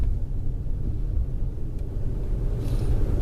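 A 2001 Acura 3.2TL Type S with a faulty transmission drives along, its low, steady engine and road rumble filling the cabin as it upshifts into third gear, with no talking.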